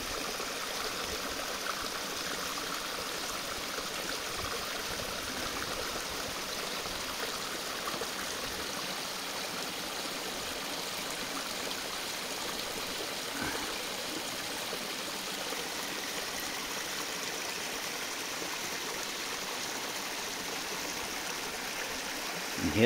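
Steady running water rushes and trickles continuously at low level, like a shallow stream outdoors where a remote-control car drives through, with no other prominent sounds.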